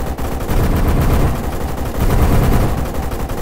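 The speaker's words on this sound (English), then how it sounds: "hit it with a machine gun." Sustained machine-gun fire in the military shooter Arma 3, a dense, loud rattle of bursts rolling on for several seconds with a brief dip between volleys and no voices on top.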